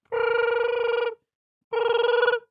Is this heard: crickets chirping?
no